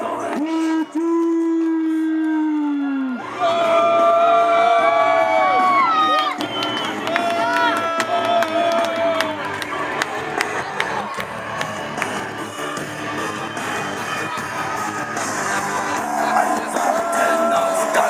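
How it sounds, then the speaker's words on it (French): Crowd at a CWF Chtimania wrestling show cheering, yelling and applauding, loud and sustained after a short musical intro, with bright music lines running through the roar. "acclamez à l'applaudissement pour Witty"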